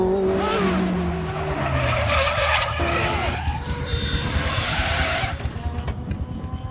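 A 1903 vintage car picks up speed along a straight, its engine note rising and shifting under strain, loud and close for several seconds, with squealing, skidding tones mixed in.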